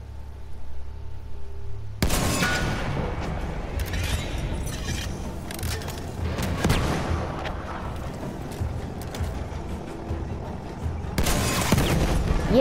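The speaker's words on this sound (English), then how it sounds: "I'm gonna pull out my AT rocket gun" A Battlefield 1 battle erupts after a short quiet lead-in into loud, dense gunfire, rocket blasts and explosions that carry on almost nonstop, with a fresh heavy burst toward the end.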